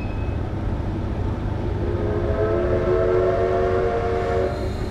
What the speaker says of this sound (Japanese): あの蒸気機関車は私たちが乗る車両ではありませんが